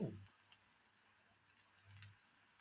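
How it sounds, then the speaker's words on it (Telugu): Sliced onions fry in a pan for a tamarind-leaf dried-fish curry. The sizzle is faint and steady, a soft constant hiss with occasional tiny pops and no talking. "ముందు ఉల్లిపాయలు బాగా వేగాలి వేగితే"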